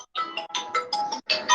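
A phone ringtone plays a bright, repeating electronic melody in short bursts separated by brief gaps, fairly clear and alone.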